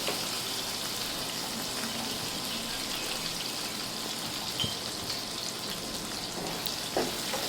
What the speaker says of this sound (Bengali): তারপর প্যানে যে মাছ ভাজার তেলটা ছিল সেই তেলের ভেতরে পিস পিস করে কেটে রাখা আলুগুলো দিয়ে দেব